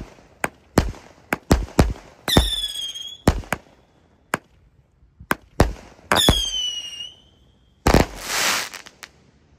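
A 49-shot Roman candle box fires at night, loud sharp bangs in an irregular string, some shots trailing whistling squeals and one ending in a fizzing crackle burst.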